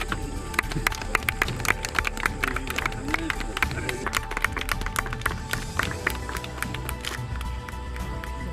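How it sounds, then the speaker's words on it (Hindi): A crowd claps at the inauguration of a sensor-equipped international athletics track in Bareilly, with scattered, irregular claps rising over the murmur of people talking outdoors, moderately close and continuing throughout. "ताली बजाओ भाई।"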